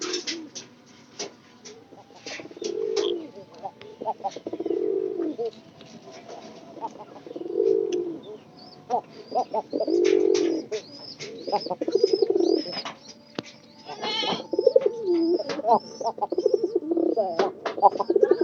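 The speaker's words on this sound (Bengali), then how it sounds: "মোটামুটি এই প্যারাটা কিন্তু ডাক ভালোই আছে আমার মতে।" Pigeons coo in a loft, their low throaty calls rising and falling in repeated bursts, close and fairly loud, with chirps, wing flutters and a few clicks between the calls.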